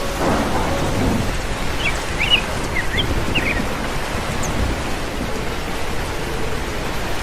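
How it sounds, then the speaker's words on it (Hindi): A cartoon thunderstorm pours heavy rain: a loud, steady hiss of rain with deep thunder rumbling underneath, a few faint chirps flickering through the middle, and no voices. "ये तूफान ने तो एकदम गति कम कर दी है।"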